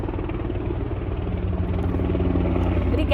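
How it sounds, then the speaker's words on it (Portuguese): A helicopter passing overhead makes a loud, continuous low rotor drone with a steady throbbing pulse. It holds level throughout, with no speech over it. "Tá passando um helicóptero aqui."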